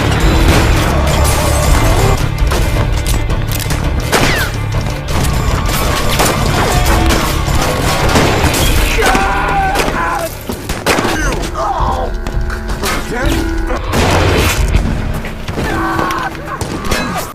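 A film gunfight erupts in dense, loud volleys of gunshots mixed with crashes and impacts, the firing continuing almost without pause throughout, with occasional voices underneath.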